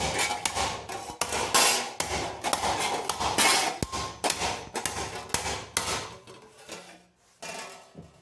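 Rapid hammer blows ring out on annealed metal being flattened against an anvil, a dense run of loud, close clanging strikes with short pauses near the end.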